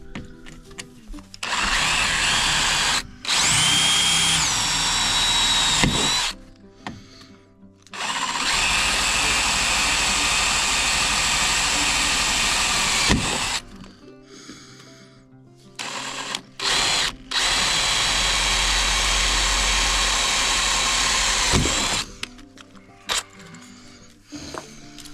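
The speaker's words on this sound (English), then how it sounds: "This is the smallest drill bit I have, and that's what I'm using to punch through this galvanized tube." A power drill with its smallest bit whines in several long bursts separated by short pauses, its high grinding pitch shifting as it bores through a galvanized steel tube.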